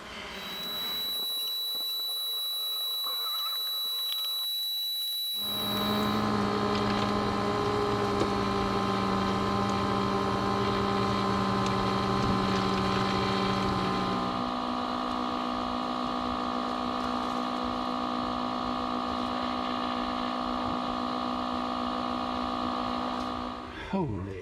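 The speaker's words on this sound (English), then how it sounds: "I've been vacuuming and vacuuming for a long time now" A shop vacuum runs while removing brood and honey comb from a beehive inside an abandoned RV. It gives a loud, continuous droning whine that shifts pitch a couple of times as the suction changes.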